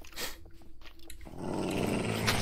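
Dogs growling in the Minecraft video game, a few short low snarls followed by a steadier rumbling growl, close and clear with no talking over it.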